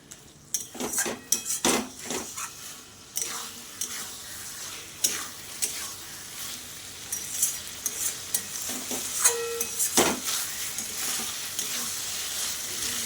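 Fig curry stirred in a pan with garam masala and ghee: a spoon repeatedly scrapes and clinks against the metal pan over a steady sizzle, close and fairly loud, with no talking.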